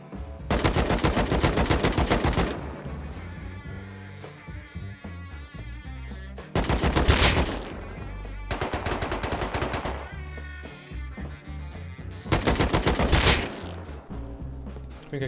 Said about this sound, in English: Then I heard some shots towards the outpost.